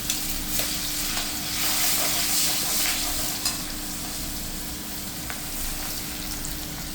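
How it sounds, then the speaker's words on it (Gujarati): Chopped onion hitting hot oil with cumin, dried chillies, asafoetida and turmeric, a steady close sizzle broken by a few stirring scrapes and clinks, no voices. "હવે એની અંદર નાખી દઈશ સુધારેલી ડુંગળી"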